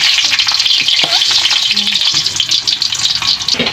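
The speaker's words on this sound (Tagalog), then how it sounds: "luluto ko naman itong ating kamatis" Tomatoes fry loudly in a pan, with a dense, close, constant sizzle and crackle broken by rhythmic stirring scrapes, no talk over it.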